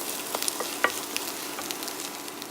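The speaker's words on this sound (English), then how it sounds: "I'm adding the greens in the skillet here to warm them up." Greens warming in a hot skillet where eggs were just cooked, a continuous crackling sizzle with scattered pops and light stirring scrapes, close and steady, no voices.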